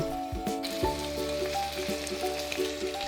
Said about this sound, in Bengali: মিডিয়াম আঁচে ফুলকপিগুলোকে আলু পেঁয়াজের সাথে মিনিট 2 জন্য ভেজে নেব।